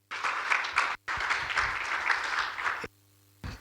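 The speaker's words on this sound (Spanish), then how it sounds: "Un aplauso, por favor" An audience applauds after an engineer's presentation on meteorological data science, a dense burst of clapping that briefly dips, carries on for a few seconds, stops, then picks up again in a short final flurry.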